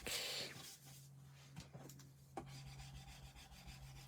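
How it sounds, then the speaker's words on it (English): A peeled adhesive sticker is burnished down onto black card, giving a soft, close rubbing scrape with a few brief firmer strokes, quiet and alone without talk. "Give that a little burnish over."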